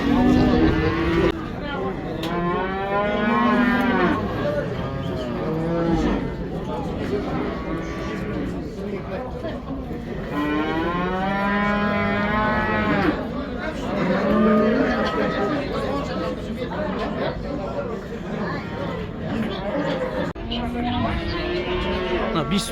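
Cattle at the Kyzylorda livestock market low repeatedly in long, drawn-out moos, some near and loud, amid a busy murmur of people talking.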